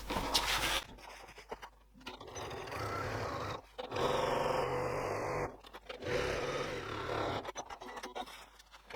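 A sewing machine stitches along the long edges of a zippered tote bag in three sustained runs of dense, whirring noise, separated by brief pauses.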